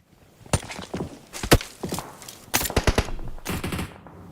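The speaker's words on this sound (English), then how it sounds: "Oh, and then they're getting shot from behind, too." Automatic gunfire in PUBG Mobile during a tournament match: several quick bursts of rapid shots, loud and close, with a short pause between each burst.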